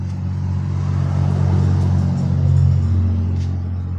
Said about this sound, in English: Comes another car.